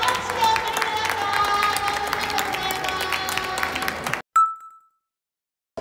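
An audience claps for the winners of a beginners' ice car race event, steady applause with crowd noise for about four seconds, then it cuts off and a short ringing ding follows.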